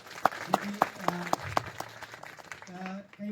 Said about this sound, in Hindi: उनके लिए विशेष तौर पर ताली बजाइए